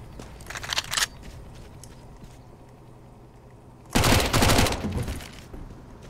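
A loud burst of rapid gunfire erupts midway in Counter-Strike: Global Offensive's Danger Zone mode, following an earlier shorter volley, with steady game ambience between.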